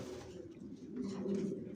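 Racing pigeons coo in a loft, a soft, low, continuous burbling that swells slightly toward the end, fairly faint and with no talking.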